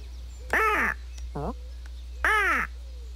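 A cartoon crow from Simon's Cat caws in two loud, harsh calls with a softer short croak between them, set against a low steady hum.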